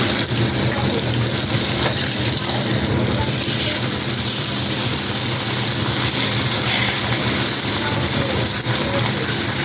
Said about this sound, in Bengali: পার্শে মাছটা নুন হলুদ দিয়ে ভাজতে বসিয়ে দিয়েছি